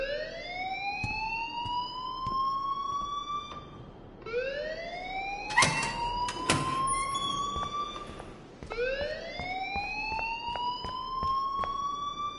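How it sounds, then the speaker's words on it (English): An alarm siren wails in the game Life is Strange, rising in long repeated sweeps, loud and continuous with a few sharp clanks mixed in and no talk over it. "please turn off that alarm since that's your job."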